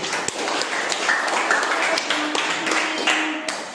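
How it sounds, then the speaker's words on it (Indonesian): A classroom of students claps for a presenter, giving brisk, fairly close hand claps with some sharp individual taps, steady for several seconds with no talking over them. "Beri aplaus dulu."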